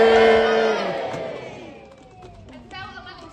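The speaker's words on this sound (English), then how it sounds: "on 3, we're going to give him a great big cheer" An audience at a sea lion show lets out a big, loud cheer that fades away over a couple of seconds, followed by scattered quieter voices and a small second swell.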